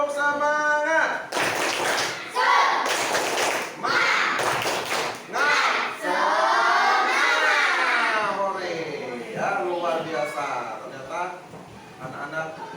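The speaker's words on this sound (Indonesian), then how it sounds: "mari kita tepuk semangat dulu ya" Schoolchildren in a religious studies class do the rhythmic tepuk semangat clapping chant, with sharp bursts of clapping between loud sung and shouted phrases from many voices together.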